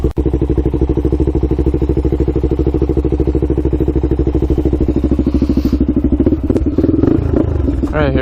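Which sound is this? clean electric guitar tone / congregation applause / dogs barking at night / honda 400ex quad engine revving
honda 400ex quad engine revving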